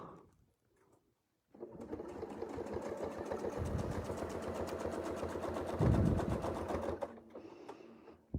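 A sewing machine stitches a continuous quilting motif in one steady, close run of rapid needle strokes lasting over five seconds, with a brief pause in speed near the end before stopping.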